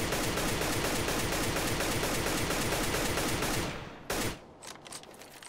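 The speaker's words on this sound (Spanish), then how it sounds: "Ahí van soltando unos poquitos disparos por esa zona de Double Doors, sin más." Automatic gunfire in the video game Counter-Strike on the Dust2 map, a loud dense burst of rapid shots running steadily for several seconds before cutting off into a few brief trailing cracks.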